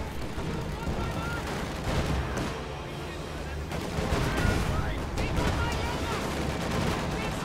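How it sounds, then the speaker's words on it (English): An armored car's autocannon and surrounding gunfire in a World War II strategy game, shots firing at a heavy tank amid steady battle noise, loud and continuous beneath a commentator's talk. "Puma firing at the IS-2."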